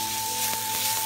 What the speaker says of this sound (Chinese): 再倒入肉末